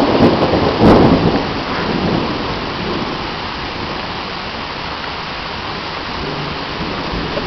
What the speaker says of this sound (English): that was a sample of a London thunderstorm